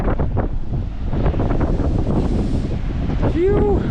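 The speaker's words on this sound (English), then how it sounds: "But there's waves." Ocean waves breaking at Jeffreys Bay under strong wind, a loud continuous rush and roar buffeting the microphone, with a brief voice near the end.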